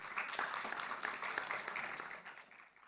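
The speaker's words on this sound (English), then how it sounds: "Give a hand for yourself, ladies and gentlemen, for making the show possible." An audience at a startup pitch event claps in a sustained round of applause, dense and steady for the whole stretch, slowly thinning toward the end.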